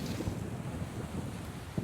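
Sea waves washing over stones on a beach, a continuous rushing surge and splash with wind buffeting the microphone, close and fairly loud throughout, with no voices.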